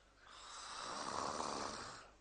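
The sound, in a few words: person snoring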